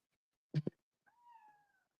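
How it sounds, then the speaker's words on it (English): A cat meows: two short, sharp chirps followed by a longer, drawn-out meow, close and clear in an otherwise quiet room. "Here's the cat's back."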